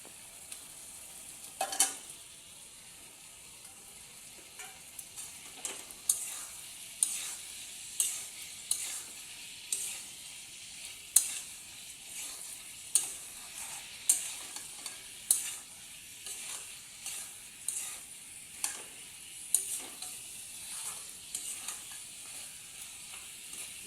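Mutton frying in cooked spice masala while being stirred, a soft steady sizzle with regular scraping knocks of the spoon against the pan, close and without talking.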